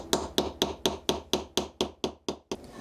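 A tool taps wood to compress it around a mortise, the Japanese kigoroshi technique, during setup of a new Japanese chisel. About eleven crisp, evenly spaced knocks sound up close, each fading quickly, with no talking.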